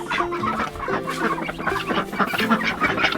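Hookbill ducks kept among a fancy poultry flock call in a steady, busy stream of overlapping quacks and clucks, close and continuous with no talking.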